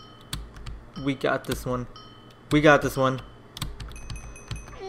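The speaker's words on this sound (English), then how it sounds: "My keyboard's freaking loud as hell." Sharp, rapid keyboard clicks clatter close by in bursts, while someone talks over them.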